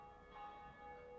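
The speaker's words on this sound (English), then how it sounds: "First bell has been rung." In the video game Dark Souls, a large bell tolls with a faint, sustained, resonant ring that hangs in the background with no voices over it.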